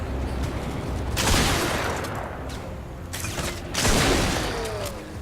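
Shotgun fire in the Fortnite video game: two loud, booming blasts about two and a half seconds apart, each trailing into a mechanical reload rattle, with no voices.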